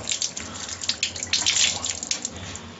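Water from a kitchen tap splashes steadily over tamarind as it gets a light rinse, making a close, continuous gushing and spattering with no talk.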